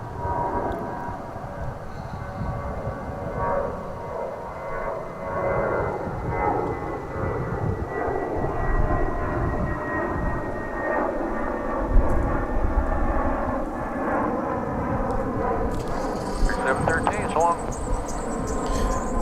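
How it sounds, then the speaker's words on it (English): An American Airlines Airbus A320 jet passes at DFW International Airport, its engine roar swelling and holding loud and fairly close, with a rising whine near the end and people talking beneath. "That was American Flight 713. An Airbus A320"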